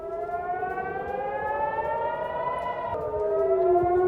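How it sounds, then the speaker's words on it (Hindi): A loud air raid siren in northern Israel wails steadily, its pitch gliding slowly upward, then dropping and starting a new descending sweep, alone with no voices. "एयर रेड अलर्ट और सायरन की आवाज"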